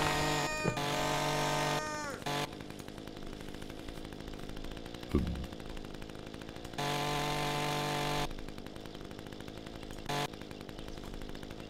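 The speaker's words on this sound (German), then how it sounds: "Mit der Kettensäge. Natürlich. Geht schneller." A chainsaw in a video game cuts in bursts: high buzzing revs start and stop several times, with a sharp impact sound in the middle and steady game background noise between cuts.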